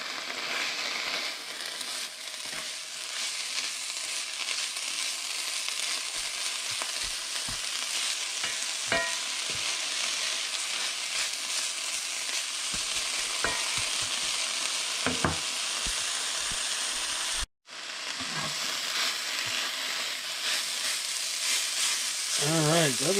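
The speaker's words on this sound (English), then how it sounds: "yellowfoot chanterelle mushrooms from last year. And we're just going to saute this up." Yellowfoot chanterelle mushrooms sauté in a pan with a soft, continuous sizzle, broken by occasional scrapes and taps of a utensil as they are stirred, with a brief pause near the end.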